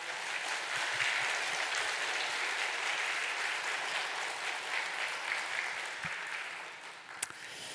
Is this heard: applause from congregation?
yes